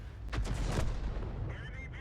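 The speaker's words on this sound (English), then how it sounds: "So BoGustavus is going to do another shot in." An artillery shot from a GW Panther self-propelled gun in World of Tanks, a heavy low boom that rolls on over about a second, with faint engine and ambient game noise after.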